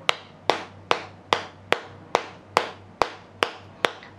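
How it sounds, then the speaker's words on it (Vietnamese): A large massage hammer taps an acupoint on the body in a slow, perfectly even rhythm: about ten sharp, close knocks spaced under half a second apart, each with a short decay. "quý vị dùng cái búa lớn này chúng ta gõ vào huyệt vị này"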